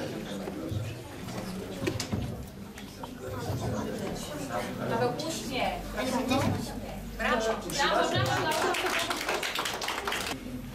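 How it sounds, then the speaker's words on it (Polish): Audience at an art contest awards for children clapping for a winner, scattered applause mixed with lively chatter and voices in a room. "Paweł Kamiński, brawa, trzecie miejsce."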